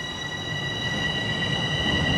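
A Toronto subway train at the empty Bessarion Station hums steadily with high-pitched whining tones and a low rumble, heard close by at moderate volume with no voices.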